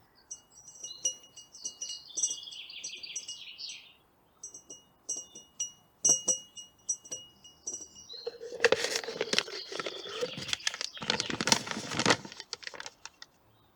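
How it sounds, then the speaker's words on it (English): A note is pulled from a glass container, giving sparse clinks and taps of glass followed by a burst of loud paper rustling and crinkling, close by with no speech. "Let me remove this note from its glass container."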